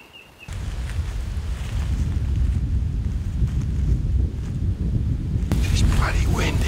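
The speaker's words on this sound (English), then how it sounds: "It's bloody windy." Strong wind buffets the microphone on an exposed hillside during a fallow buck hunt, a loud continuous low roar that starts after a brief quiet moment and keeps gusting, with faint voices underneath.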